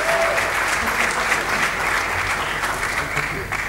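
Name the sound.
audience applauding and cheering panelists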